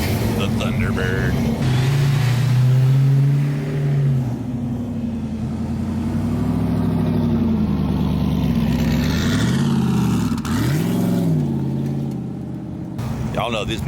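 Ford Thunderbird pace car at the Foxtoberfest Foxbody Mustang gathering, its engine revving up and down in several rising and falling swells as it rounds a turn, loud and near, with people talking and cheering over it.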